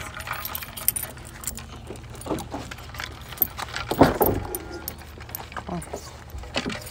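Car keys jangle in short bursts at close range, over a busy outdoor scene as people talk nearby.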